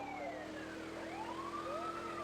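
In Grand Theft Auto 2, the special agent car's police siren wails at a moderate level, with overlapping rising and falling tones over a steady electronic hum and no voices.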